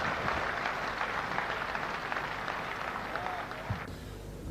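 An audience at a poetry recital (mushaira) applauds in welcome of poet Munawwar Rana, a dense, sustained wash of clapping from a crowd that fades out toward the end.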